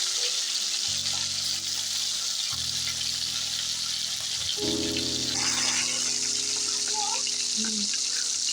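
Hilsa fish fry in hot oil in a frying pan, giving a continuous bright sizzle that stays steady throughout. Low humming tones sit underneath, and a faint, brief stir is heard near the end.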